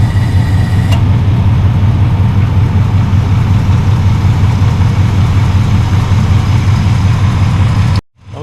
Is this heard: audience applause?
no